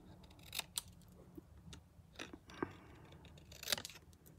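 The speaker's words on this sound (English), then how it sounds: "I think I want to cut a little bit more off this top." Scissors snipping through paper card while a birthday gift card holder is made, a few quiet separate crisp cuts close to the microphone, spaced irregularly.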